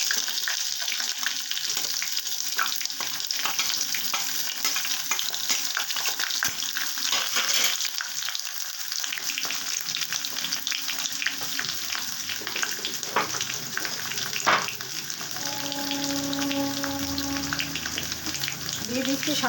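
Chopped onion hits hot oil with garlic in a pan, giving a loud continuous sizzle and crackle throughout, with stirring scrapes and a brief tonal hum near the end.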